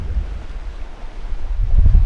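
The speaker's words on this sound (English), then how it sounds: "The boat's tending to rock from side to side as we side on to the waves" Waves and wind wash against a sailing catamaran side on to the swell off the New Zealand coast, a steady low rumble of surf and gusting wind noise that swells louder toward the end, with no voices.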